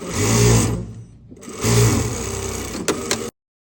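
A sewing machine stitches a sweatshirt sleeve in two loud, fast runs separated by a brief pause, then stops abruptly.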